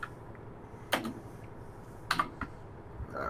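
A handful of sharp, isolated typewriter key strikes land irregularly, faint and close, spaced about a second apart over a quiet background hum.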